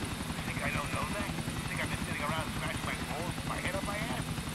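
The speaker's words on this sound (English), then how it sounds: "I'm gonna take the fucking helicopter." A helicopter in Grand Theft Auto IV gives a steady, loud rotor thrum with a chopping pulse throughout, while someone talks over it.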